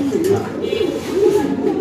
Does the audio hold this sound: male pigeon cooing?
yes